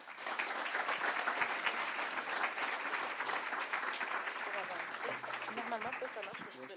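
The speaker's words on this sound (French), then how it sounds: "dans un tonnerre d'applaudissements, s'il vous plaît, accueillez notre conférencier, M. Frédéric Cherki." A conference audience at a 2023 colloquium applauds steadily to welcome the speaker, a dense, sustained wash of many hands clapping, with some voices beneath near the end.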